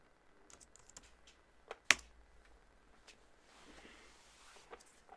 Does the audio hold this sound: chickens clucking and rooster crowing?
no